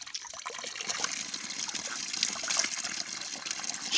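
Cold mineral water running from a mountain spring, a steady close trickling and splashing flow that continues throughout with no talk.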